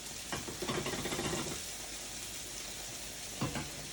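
Eggs cooking in a shakshouka pan give a steady broadband sizzle and frying hiss throughout, with a few brief louder crackles and stirring scrapes near the start and end.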